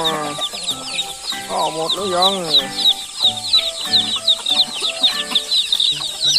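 Backyard village chickens clucking steadily near and far while hungry at feeding time, with a person talking over them partway through.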